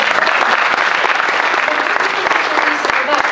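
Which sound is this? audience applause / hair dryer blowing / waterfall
audience applause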